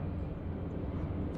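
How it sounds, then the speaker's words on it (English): An airplane passes overhead near an airport, a steady, fairly loud low rumble that holds continuously throughout with no voices. "I don't know if you guys can hear that in the background, but I got a plane overhead."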